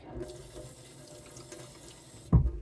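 Hands rinsed under a running sink tap while working with silver clay and silicone molds, a steady close stream of water that ends in a brief louder splash.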